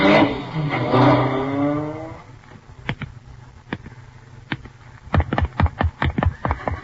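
A taxi cab in an old radio drama, its engine revving and pulling away for about two seconds, then a string of sharp knocks and clicks that thicken into a fast patter toward the end.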